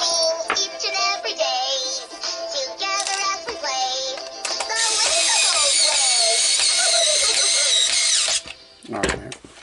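Power screwdriver driving a couple of screws into a battery-powered Fisher-Price beaver toy being switch-adapted, a loud close whirring buzz in several bursts, the longest sustained near the end, with a short clatter after.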